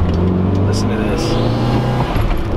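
A tuned Mitsubishi Evo's engine drones steadily as it drives, with a low, loud hum that lifts slightly toward the end, and faint voices are also present.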